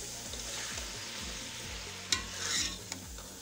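Tinda, or apple gourd, frying in oil in a pan, a steady close sizzle with repeated low scraping stirs and a couple of sharp clinks near the end.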